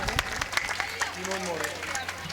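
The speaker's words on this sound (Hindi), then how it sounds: "ताली बजा के स्वागत करें" An audience at a Shrimad Bhagwat Katha gathering applauds to welcome a guest, a scattered patter of clapping heard beneath a man's speech.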